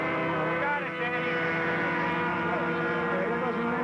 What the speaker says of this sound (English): There goes the engine.